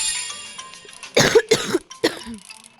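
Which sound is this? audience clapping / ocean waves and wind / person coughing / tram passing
person coughing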